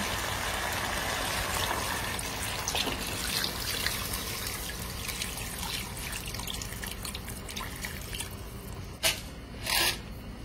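Water pouring and splashing steadily into a cooking pot of pork hock pochero, a continuous trickling rush followed by a couple of louder clinks near the end.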